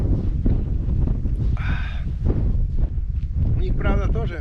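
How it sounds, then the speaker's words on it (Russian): Wind blows across the microphone at a lakeside carp-fishing spot. A constant low rumble runs throughout beneath people talking. "Ветер только колокольчики шатает."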